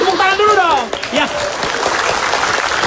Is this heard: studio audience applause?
yes